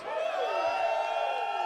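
Audience at a Fresh Produce music producer showcase cheering and whooping loudly, a sustained dense crowd roar with shrill whistles and rising and falling voices throughout.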